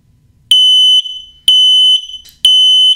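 An X-Sense XS01-WX smoke detector set off by match smoke sounds its alarm, a piercing, very loud high-pitched beep repeating in three long pulses about a second apart, close by and alone.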